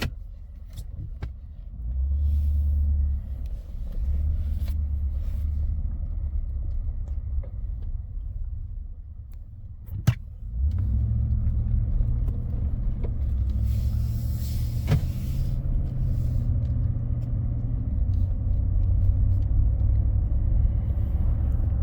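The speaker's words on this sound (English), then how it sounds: "we're just going to drive down the road and show you here." A 2018 Ford F150 pickup truck driving down the road after a wheel bearing repair, heard from inside the cab as a steady loud low rumble of engine and road noise, with a brief thump midway, no talking.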